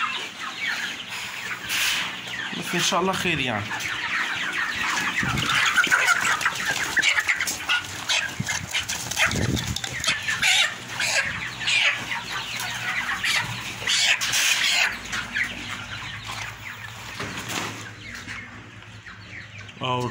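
Chickens clucking and squawking with occasional wing flapping as they are handled and weighed on a scale, fairly close and continuous, with someone talking over them now and then.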